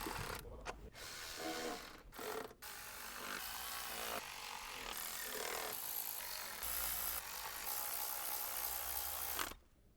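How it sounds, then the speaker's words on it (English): Electric ratchet with an 8mm deep socket tightening valve cover bolts on a 2012-2017 Jeep Wrangler, a loud, steady mechanical whirring and grinding that runs nearly ten seconds with brief dips early on, then cuts off at the end. "Use an 8mm deep socket on the electric ratchet to tighten the valve cover bolts."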